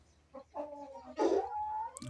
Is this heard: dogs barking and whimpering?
no